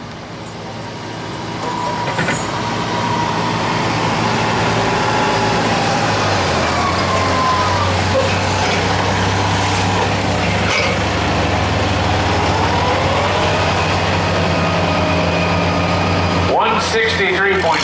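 A 770 Oliver tractor pulling in a 5000 lb stock tractor class: a loud, steady engine drone that builds in the first seconds, then holds a strong labouring roar under the pull, with brief talk near the end.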